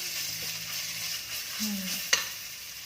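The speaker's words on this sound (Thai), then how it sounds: "สามเกลือนะคะก็คือกระเทียมพริกไทยรากผักชีตามค่ะ ผัดก่อนนะคะ เอาไปผัดก่อนค่ะ ผัดให้หอมหอม" A paste of garlic, pepper and coriander root is stir-fried in a pan, giving a soft steady sizzle with a scrape of the spatula and a sharp clink near the end.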